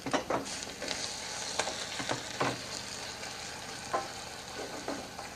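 Diced onion and charred, cubed chili being stirred in a pan off the heat, with a soft background sizzle and scattered scraping knocks of the spoon; no one speaks.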